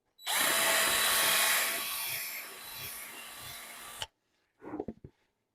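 A power drill runs for about four seconds as the bit skids across the material, a loud whining buzz that cuts off abruptly, followed by a short rattle.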